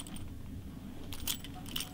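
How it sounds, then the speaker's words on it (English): Car keys jangle in a small bunch, a steady light metallic rattling throughout with a couple of brighter chinks near the end, close by and moderately loud. "And my car keys."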